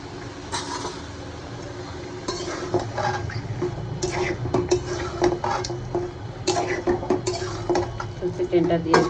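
Chicken pieces go into a pan of cooked spiced masala and get stirred, giving repeated scraping and clattering of a spoon against the pan over a low hum, with talk faintly underneath.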